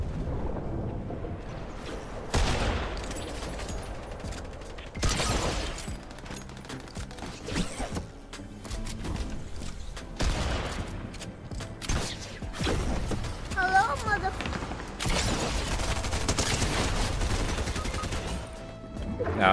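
Gunfire in Fortnite, with dense, loud bursts of shots and blasts repeating almost without pause, sometimes clustering into rapid volleys, throughout the whole stretch.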